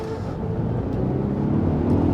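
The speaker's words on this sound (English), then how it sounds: "when you press that, it gives you the full force. The full 600 brake horsepower is unleashed." Polestar 1 hybrid with 600 brake horsepower accelerating hard in its sporty mode, a dense low engine and road roar swelling steadily louder over a couple of seconds, heard from inside.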